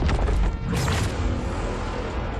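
A loud crashing smash with a booming impact as a rocket breaks through the sky in Fortnite, a sharp burst at the start fading into a rumbling, shattering tail.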